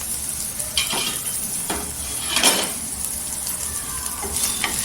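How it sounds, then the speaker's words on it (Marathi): Okra (bhindi) frying in oil over a low gas flame, giving a soft continuous sizzle broken by a few sharp spatula scrapes and clinks against the pan, close and fairly loud. "छान अशी भेंडी बघा तेलावर परतलेली आहे आणि सुकी झालेली आहे"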